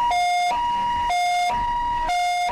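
Ambulance siren wailing continuously in a two-tone alternating pattern, switching pitch roughly every half second, loud and close with no voices.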